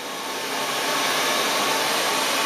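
Hair dryer running steadily during a salon blow-dry, a loud continuous broadband whoosh that holds level throughout with no voices.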